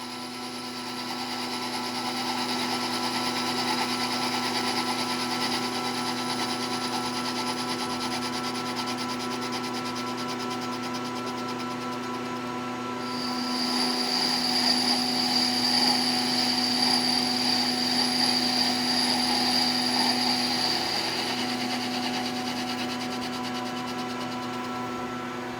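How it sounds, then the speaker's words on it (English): Metal lathe steadily cutting a taper on a 6x48 belt sander roller, a continuous mechanical hum with tonal whine, shifting slightly partway through as the cut changes, moderately quiet and close. "we're just going to cut this taper"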